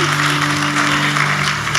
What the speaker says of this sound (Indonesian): Ya, beri tepuk tangan buat Tuhan.